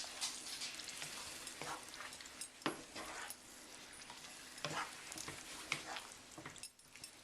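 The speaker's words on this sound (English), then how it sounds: "And we're going to fold in the strained tomatoes." Strained tomatoes are folded into cooked eggplant, onions and garlic in a pan, making soft, quiet scraping and stirring strokes with a faint sizzle underneath and no talking.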